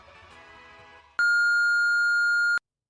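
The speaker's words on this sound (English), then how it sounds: "So I'm going to beep this guy's name." A loud, steady censor beep cuts in abruptly after a moment of low talk, holding a single pure tone for over a second before stopping dead into silence.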